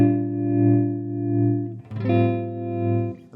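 Electric guitar through a Chase Bliss Gravitas analog tremolo pedal in harmonic mode, sustained chords swelling and dipping in a slow, smooth pulse, then a second chord continuing the same wavering rhythm, clear and unaccompanied.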